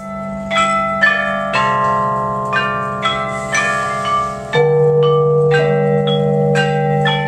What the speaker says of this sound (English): These are also similar to Western chime bells, which are struck with a hammer or a mallet